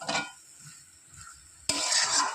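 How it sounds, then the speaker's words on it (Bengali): Spice paste for a small fish curry with potato and green banana is stirred in a pan, with a brief scrape of the utensil and then a sudden loud sizzle of frying close by. "ভালো করে মশলা কষিয়ে নিয়েছি"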